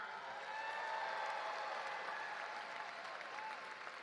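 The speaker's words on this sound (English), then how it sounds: "let's give a big cheer, first of all, for all the teachers in the audience" An audience applauding and cheering for teachers at the Montclair State University 2024 commencement ceremony, a steady wash of clapping from a large crowd, distant and fairly soft, holding evenly throughout.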